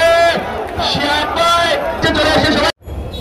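A protest procession crowd shouts and chants loudly together at a political rally, massed voices rising and falling in surges before a brief cutoff.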